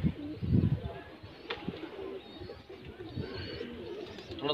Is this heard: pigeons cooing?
yes